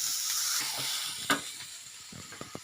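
Quiet, steady sizzle of capsicum frying in a pan, with a soft hiss and a few small crackles and pops near the end.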